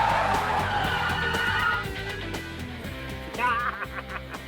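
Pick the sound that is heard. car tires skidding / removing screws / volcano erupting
car tires skidding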